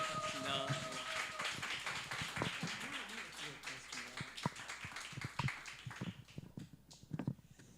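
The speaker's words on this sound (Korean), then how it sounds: "박수로 맞이하면 좋을 것 같습니다" A church congregation claps to welcome the pastor, scattered hand claps of varying loudness heard under speech through much of the stretch.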